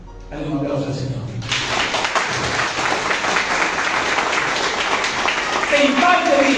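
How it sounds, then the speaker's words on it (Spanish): A church congregation bursts into loud, sustained applause that swells and continues steadily, with a preacher's voice heard at the start before the clapping takes over. "Dale un aplauso al Señor."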